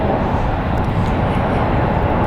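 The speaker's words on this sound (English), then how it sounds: "Falling behind it and moving out of frame is United Airlines Flight 500 from Indianapolis." A 23-year-old United Airlines Boeing 737-800 jet taxis at San Francisco International Airport, giving a steady, loud broadband engine roar with a low rumble that holds evenly throughout with no break.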